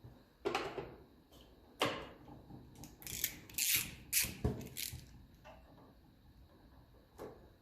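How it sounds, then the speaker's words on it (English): A 7mm ratchet tightens hose clamps on a 1954 Ferguson 20 TEF diesel tractor, giving quiet, close, intermittent bursts of ratcheting clicks and metallic scrapes with pauses between them. "do up a few of these hose clamps"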